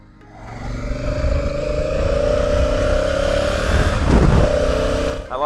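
A Honda Africa Twin adventure motorcycle engine runs steadily and loud, with a sustained drone and a brief rev surge near the end, heard close up with no talk.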